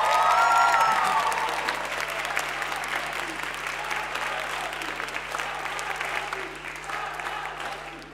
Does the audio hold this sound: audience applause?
yes